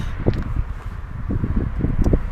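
Low, buffeting wind rumble batters the microphone in uneven gusts outdoors beside a BMW i8, with no voices.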